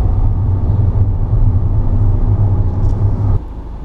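A car engine pulls away up a hill during a hill start, a loud, close low rumble and drone that holds steady, then drops slightly near the end.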